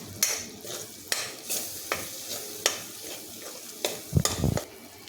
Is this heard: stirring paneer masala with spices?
yes